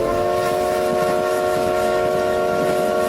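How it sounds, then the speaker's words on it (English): A steam train whistle sounds one long, steady shrill blast, loud and close, carried over a low rumbling background with no talk. "we heard a shrill whistle blast through the calm night air."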